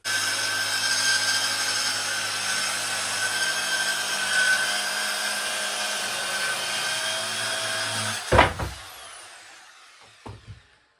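A saw cuts steadily through wood for a narrowboat cupboard in one continuous grinding run that stops abruptly, followed by a couple of sharp knocks and then quiet.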